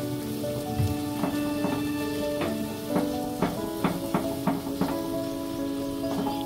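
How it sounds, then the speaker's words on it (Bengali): Spices and ground cumin paste sautéing in a pan for a Bengali potato dum, a soft continuous sizzle with small crackles and occasional scraping taps of a spoon against the pan. "আমি সব মশলাগুলো ভালো করে কষিয়ে নেব"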